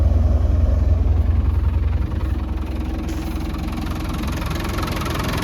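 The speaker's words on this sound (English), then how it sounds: "Look at this engine, hardly any vibration at all. Actually very quiet." A 1998 Land Rover Defender 110 300Tdi diesel engine idles steadily nearby, a low, even rumble with a slight knocking texture, holding constant and running alone without voices.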